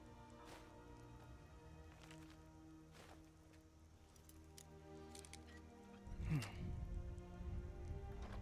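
Soft, steady rain patters nearby in the video game Skyrim, growing heavier and louder near the end as drops strike a surface.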